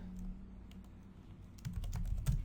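Keys clatter on a computer keyboard as a short file name is typed in a save dialog, a run of quick close clicks that grows busier and louder toward the end with no voice.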